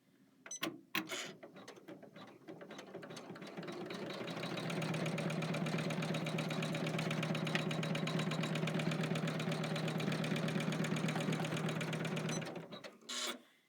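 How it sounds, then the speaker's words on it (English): An embroidery machine stitches the word bloom onto a leather tag, a Kimberbell embroidery-by-number project. After a few handling clicks it settles into a fast, steady mechanical chatter for about eight seconds, then stops with more clicks. "step 28 on your machine is going to stitch out the word bloom onto your leather tag"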